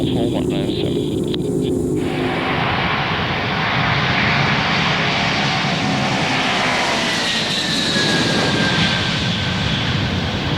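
Antonov An-124 cargo aircraft on its takeoff roll from runway 31, a loud, continuous engine roar building and holding steady throughout, heard from inside with a faint voice early on.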